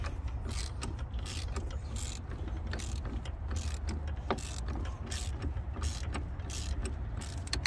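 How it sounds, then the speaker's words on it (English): A ratchet loosens a nut on the brake master cylinder of a 2003-2012 Chevy Colorado/Canyon, giving a quick, steady string of close, crisp clicks throughout, with no talk. "I'm gonna loosen up the other one before I take the first nut all the way off"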